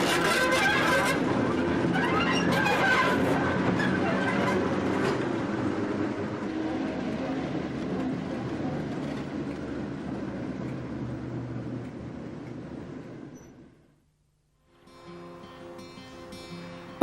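A class 08 diesel shunting locomotive runs on rails with a steady, loud mechanical rumble and rattle, then a brief break in the sound before it picks up again more faintly.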